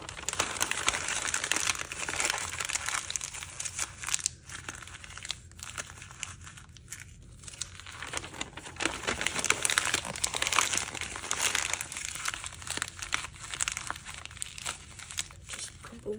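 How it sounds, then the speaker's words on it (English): Material crumpled by hand into a ball as a base for a clay face, with continuous crinkling, rustling and occasional tearing sounds, close and fairly loud, with no talk. "So this is going to be just crumpled into a ball, and that will be the base shape for the person's face"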